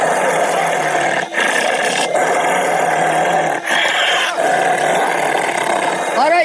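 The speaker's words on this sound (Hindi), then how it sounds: "तभी वह भेड़िया जोर जोर से गुर्राने लगता है और उसकी आवाज पूरे गाँव में फैल जाती है।" A cartoon wolf growls loudly in a Hindi animated story. The rough, roaring growl runs almost without a break for about six seconds, with short dips between bursts and a brief vocal cry at the end.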